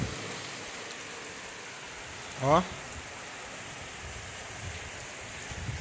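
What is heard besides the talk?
rain falling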